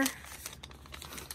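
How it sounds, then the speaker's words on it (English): Paper being folded for an envelope journal: brief crinkling and rustling handled close up, quiet, with a sharper crackle at the start. "what I'm doing is I'm just folding them"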